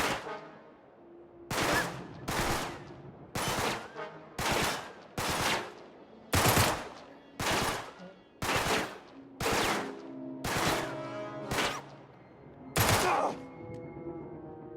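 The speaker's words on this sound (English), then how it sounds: "You're seeing how I'm counting those 5 bursts when he's firing from one hand." Enemy gunfire in the video game Uncharted 3: Drake's Deception, heard as about a dozen sharp, loud shots or short bursts spaced at roughly one-second intervals, each with a ringing decay and no talk.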